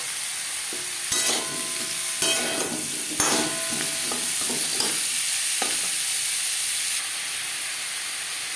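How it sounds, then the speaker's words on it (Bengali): Potatoes fry in a spoonful of heated refined oil, giving a steady close sizzle and hiss broken by a few sharp stirring scrapes, with no talking. "তৈরি করার জন্য সবার প্রথমে আমি আলু ভেজে নেব।"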